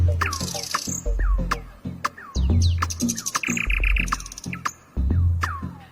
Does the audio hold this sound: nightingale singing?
yes